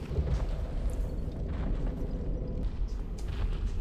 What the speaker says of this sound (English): we're gonna kill a Silent Demon right off the bat with these black fire bombs